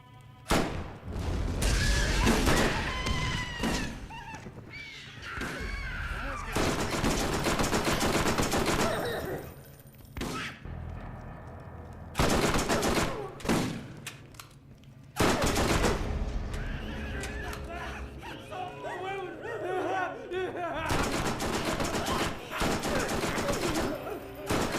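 SMG fire in the game Borderlands, long rapid bursts of automatic gunfire in several stretches separated by brief pauses, loud and close, with game effects mixed in.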